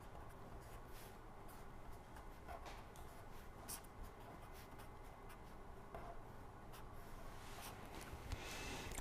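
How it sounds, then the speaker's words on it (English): Equations are written by hand during a lecture on motor and transformer fault detection, a faint, close scratching of pen strokes with occasional sharper taps, quiet throughout and no talking. "I will write it here"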